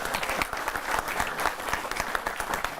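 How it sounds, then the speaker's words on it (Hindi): Audience at a Hindi comedy poetry show applauding, dense continuous clapping from a crowd, fairly loud and steady for a few seconds. "दोस्तों, आपको आनंद आया? तालियां बजाओ।"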